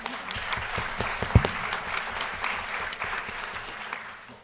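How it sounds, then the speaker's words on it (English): Audience applause at an education talk, a steady wash of many hands clapping at moderate distance that tapers off toward the end. "I think everyone deserves a little bit of applause on that one."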